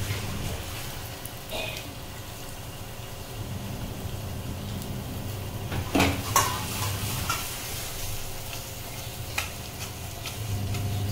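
Chopped bottle gourd frying with turmeric in a pan makes a soft, continuous sizzle, with occasional stirring scrapes and a few sharp utensil clinks around the middle.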